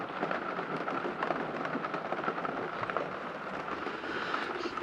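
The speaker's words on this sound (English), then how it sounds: "the rain's falling on the roof of the motorhome" Rain falls on the roof of a motorhome, a dense steady patter of countless drops, continuous and fairly loud from close overhead, with no talk over it.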